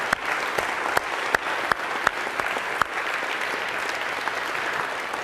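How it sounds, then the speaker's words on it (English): A lecture-hall audience gives a steady round of applause for a course staff member at a university computer science class, dense clapping with a few sharper nearby claps standing out, sustained evenly throughout. "So a huge round of applause if we could for him as well."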